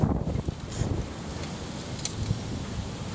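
Strong wind buffets the microphone outdoors, a steady broadband roar with gusty surges and rustling, loud and continuous with no voices.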